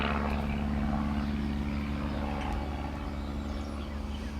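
Steady low droning hum of an airplane passing overhead outdoors, a continuous engine buzz holding loud throughout without any talking.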